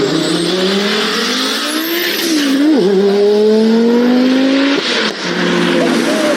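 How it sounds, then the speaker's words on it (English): An Audi five-cylinder engine revs hard and loud, its pitch rising and dipping through gear changes as the car accelerates close by. "their impeccable 5-cylinder engines. These things sound amazing."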